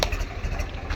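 A tractor engine idles steadily at a busy onion market, a low continuous rumble with no speech over it.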